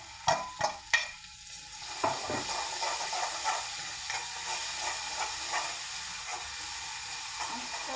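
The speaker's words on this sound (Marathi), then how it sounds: "मस्त हलून घ्यायचं तेल सुटेपर्यंत" Homemade spicy masala paste stirred and frying in hot oil for a mung bean dish, opening with a few sharp spoon scrapes, then a steady close sizzle and hiss with faint stirring under it.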